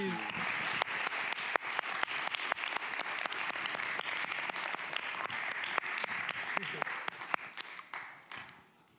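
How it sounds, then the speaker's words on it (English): An audience at an Amsterdam stage event applauds, a dense, sustained clapping with sharp individual claps standing out near the mic, voices talking over it, before it tapers off at the end. "Round of applause for everyone"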